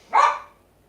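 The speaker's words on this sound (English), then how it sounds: "we'll try and shut the dogs up" A single sharp dog bark, loud and close, quickly fading into silence with nothing else heard.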